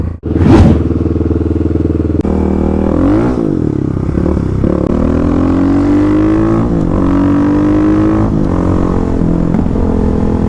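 Kawasaki KLX351 dirt bikes drag racing on a gravel road, engines revving hard and loud through repeated rising gear pulls, with a brief spike of noise at the start and a steady close engine drone throughout.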